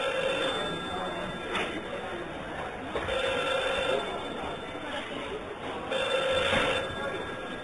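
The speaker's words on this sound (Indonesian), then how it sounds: "ana handphone moni" A mobile phone rings in repeated bursts of trilling tones spaced a second or so apart amid a busy, noisy setting, with people talking underneath.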